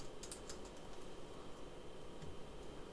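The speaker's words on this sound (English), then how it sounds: "I'm going to type in TezBox right here." Faint, quiet typing on a computer keyboard, with a few light clicks early on and then sparse taps over a steady background hiss.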